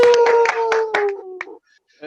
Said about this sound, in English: you can clap now. This is your test.